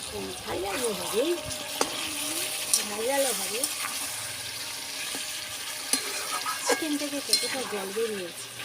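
Chicken curry is sautéed and stirred in a pan, a continuous sizzle broken by scraping stir strokes and clinks, with a voice speaking over much of it.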